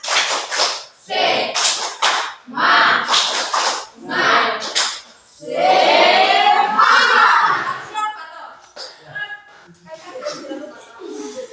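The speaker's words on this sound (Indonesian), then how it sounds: "Oke, kita akan ice breaking itu tepuk semangat." A primary school class does the rhythmic 'tepuk semangat' clapping ice breaker, with sharp bursts of patterned claps between stretches of children and a teacher talking and shouting.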